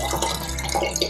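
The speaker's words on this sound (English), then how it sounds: "And then about 2 cups of water." Water pours into a small glass spray bottle, a short, close splashing and gurgling stream running continuously.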